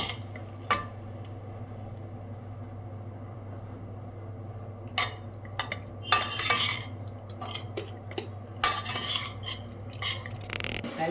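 Lemon rice is stirred in a pan with a spoon: a quiet start under a steady low hum, then irregular scraping and metallic clinks that cluster in the second half.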